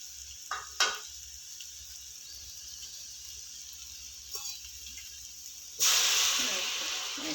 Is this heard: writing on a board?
no